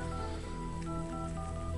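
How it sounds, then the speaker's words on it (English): Dialer tones from a Google/HTC Nexus One phone as a number is keyed in, with steady overlapping DTMF beeps that change pitch with each key, heard close and clear with no talk. "if I go to the phone dialer, which is right here, and type in a number"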